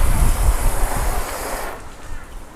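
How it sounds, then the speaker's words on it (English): A garden hose sprays water onto a freshly coated car, a steady loud hiss and spatter close by that drops off near the end. "I will grab the hose just to spray a little bit more water on there"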